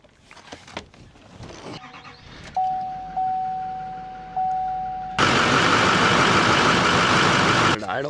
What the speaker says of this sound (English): We'll fire it up and check for leaks.